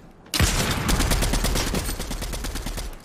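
Sudden burst of automatic gunfire from a hard-recoiling weapon in Fortnite, a fast steady string of close, punchy shots with a booming low end that starts abruptly and keeps hammering for about three seconds.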